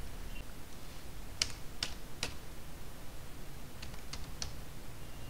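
A few sparse keystrokes on a computer keyboard: faint, isolated clicks in small clusters over a quiet hiss, with no talking.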